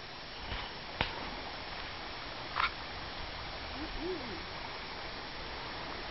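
The Meramec River current rushes steadily where the channel narrows, a continuous broadband flow with a few faint knocks and rustles on top.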